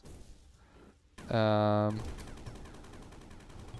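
Blaster fire tearing through material in the sand-digging video game Sandustry: a loud, sustained buzzing burst of just under a second that cuts off abruptly, with quieter game ambience before and after.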